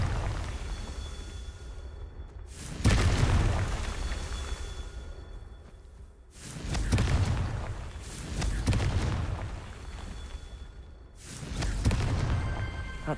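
Explosive Confringo spell blasts in the Hogwarts Legacy video game: three or four deep, booming bursts a few seconds apart, each swelling loud and then rumbling away over a steady low background.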